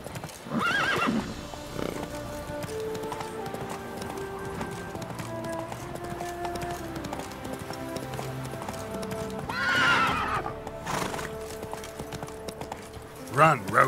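In the video game The Witcher 3, a horse gallops with brisk, steady hoofbeats over background music, and loud whinnies break in near the start, around the ten-second mark and at the end.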